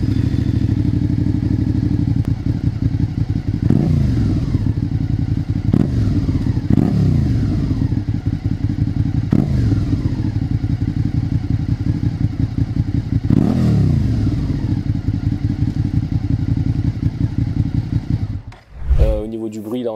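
A motorcycle fitted with a counterfeit SC Project exhaust idles and runs loud and close, a steady throbbing drone with repeated blips of throttle, before cutting out near the end.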